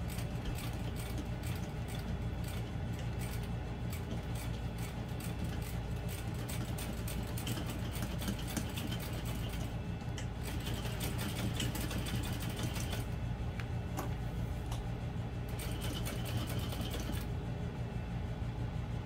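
Sewing machine stitching a connector onto a vinyl and waterproof canvas clutch, a steady close mechanical whir with rapid needle ticking that runs throughout with brief slowdowns and no talk.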